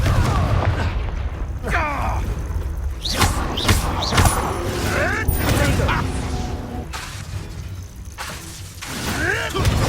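Repeated Confringo fire-spell blasts in Hogwarts Legacy, booming thuds and whooshes over steady rumbling game sound, with a voice talking throughout.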